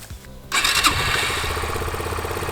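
A motorcycle engine cranks and catches after about half a second, then settles into a loud, steady running rumble close by, with no voices.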